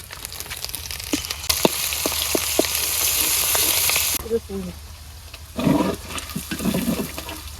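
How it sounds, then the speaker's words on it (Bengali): Raw shrimp hit hot oil in a heated wok, giving a loud, continuous sizzle with small clinks and pops that drops to quieter, uneven spitting partway through. "কড়াই এই যে গরম হয়ে গেছে তেল দিয়ে দেই এই কড়াইটাও চিংড়ি মাছ দিয়ে দেই"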